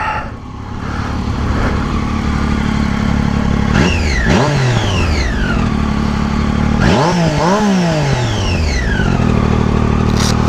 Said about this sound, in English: Let the bike warm up a little bit too.